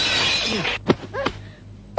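Objects are smashed in a comedy movie scene: a bright crash of shattering glass, followed by a couple of heavy thuds and a final sharp knock, close and loud.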